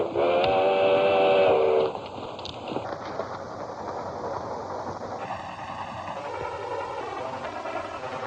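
A loud steam whistle blows for a couple of seconds, then the rumble and clatter of a passing steam train carries on, with further tonal whistle sounds.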